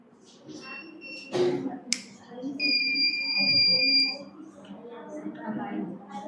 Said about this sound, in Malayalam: ഇത് ഒരു ഫയർ അലാമാണ്.